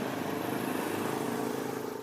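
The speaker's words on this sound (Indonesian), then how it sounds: "Misalnya, suara motor" A motorcycle engine runs at a steady, even drone, holding a constant hum throughout with no voices.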